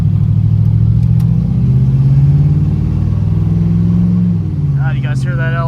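An LS-swapped 1978 Ford F100 short bed idles and revs with a deep, loud engine rumble close up, a voice breaking in near the end.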